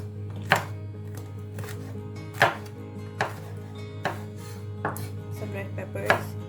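A knife chops green chilies into big chunks on a cutting board, giving about seven sharp, separate knocks at an irregular pace over a steady low hum, with no talking.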